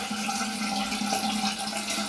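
Cold tap water runs steadily from a faucet to rinse a GEM 1912 safety razor, a continuous close hiss and splash with no voices.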